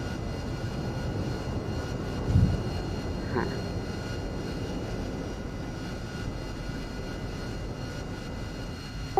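A steady, loud roar of an AV-8B jet engine in a flight-simulator game fills the whole stretch, continuous and unbroken, with a brief thump partway through.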